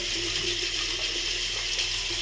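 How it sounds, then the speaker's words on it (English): Steady hiss of cold water running from a tap, constant and close, with no voices. "Cold water."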